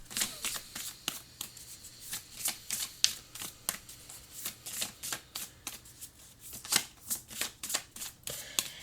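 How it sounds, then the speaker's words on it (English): An astrology oracle card deck being shuffled by hand, a steady run of crisp, close riffling flicks and slaps in quick irregular rhythm, no talking. "let's see if we can get one more card from the astrology oracle deck"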